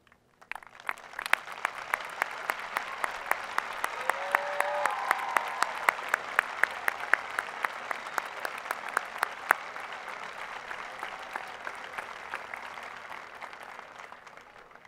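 Audience applause for faculty at a 2018 high school graduation ceremony, a long spread of sharp individual claps rising in a large hall, swelling and then slowly thinning out, heard from a distance.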